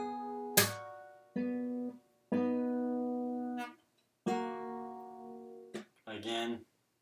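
Fingerstyle guitar intro phrase from a song, several plucked notes and chords ringing out alone, each struck cleanly then sustained and fading, with short gaps between and a final quick strum.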